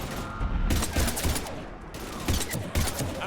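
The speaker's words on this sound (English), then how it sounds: "We're taking heavy fire." Heavy rapid gunfire fills a Mass Effect 3 battle, with dense overlapping bursts of automatic shots at close range, loud and continuous with brief lulls.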